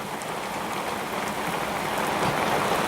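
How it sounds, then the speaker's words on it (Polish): Heavy rain pours down steadily as a dense, continuous hiss of drops on surfaces, close and fairly loud, building slightly over a few seconds with no voices. "Słychać jak deszcz leje"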